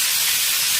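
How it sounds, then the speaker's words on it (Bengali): Vegetables frying in hot oil for a restaurant-style fried rice and chilli chicken dish, giving a loud continuous hissing sizzle with no pauses. "তেল গরম হয়ে গেছে, সবজিগুলো দিয়ে দিলাম।"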